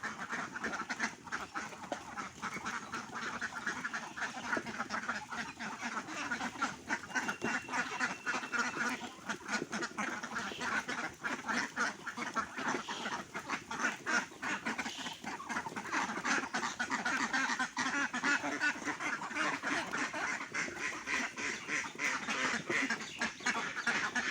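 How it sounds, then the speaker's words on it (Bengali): A flock of Khaki Campbell ducks quacks continuously as they stream out of their shed, a steady chorus of overlapping calls at moderate distance with no talk. "দেখেন হাঁসগুলো কিন্তু সব সুন্দরভাবে বেরিয়ে যাইতেছে"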